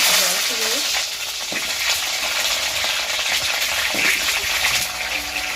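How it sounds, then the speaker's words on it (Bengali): Potatoes frying in oil in a pan on a clay stove, giving a continuous dense crackling sizzle with occasional stirring scrapes, close and steady. "আর উনুনে প্রথমে আলুটা আমি ভেজে নিচ্ছি"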